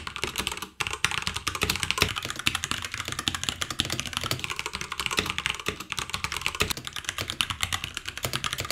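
Rapid, steady typing on a mechanical keyboard fitted with Cherry MX switches, an ROG Falcon, close and clear, with dense clacking keystrokes running throughout and no voices.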